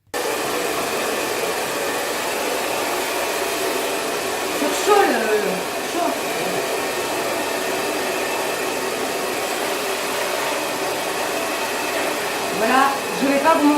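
Steady broadband roar of a hair dryer blowing hair dry during a Brazilian straightening treatment at home, running continuously and close, with brief speech over it.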